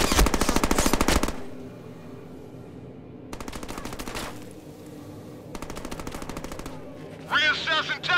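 Machine gun fire in the Deadpool video game comes in several loud, rapid bursts separated by short gaps of lower background noise, ending with a brief chirpy electronic effect.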